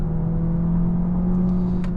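A Peugeot 408 GT PHEV plug-in hybrid accelerating hard during a 0 to 100 km/h run, heard from inside as a steady loud motor whir and road rumble with a sustained tonal hum.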